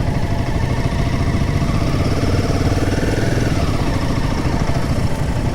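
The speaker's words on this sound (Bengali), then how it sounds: "আমাদের বাইকগুলো এইরকমভাবে নাবছে" Motorcycles rolling downhill on a group bike tour in North Bengal, a loud continuous engine drone with wind rumble, close and unbroken for the whole stretch.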